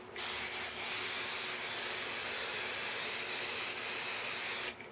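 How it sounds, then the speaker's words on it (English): An aerosol can of spray paint, used for a cosplay piece, gives a close, steady spraying hiss that holds almost five seconds and then cuts off, with no talking. "This one says hold the can 12 inches from the surface."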